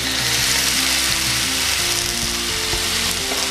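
Potatoes and onion frying in a pan for beef picadillo, a loud, dense, continuous sizzle with a rattling, ratchet-like crackle running throughout, no one talking.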